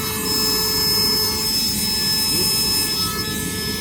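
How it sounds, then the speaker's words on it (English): A Milwaukee rotary tool runs at a steady high-pitched whine, close and loud and unchanging for a few seconds, while working on a factory car door panel during a tweeter install. "Good old Milwaukee Dremel."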